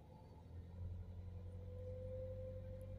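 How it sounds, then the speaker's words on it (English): A Ford Focus C-Max 1.6 TDCi diesel with a DPF ash accumulation fault drones at a low, even rumble, its engine note rising slowly as it labours to pick up speed, heard from inside with no talk. "This thing is sort of struggling to accelerate."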